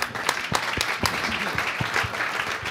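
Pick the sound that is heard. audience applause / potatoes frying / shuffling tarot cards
audience applause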